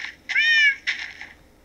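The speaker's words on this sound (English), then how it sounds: "I heard a cat." A Minecraft cat gives two short, clear meows in quick succession, close and distinct against near silence.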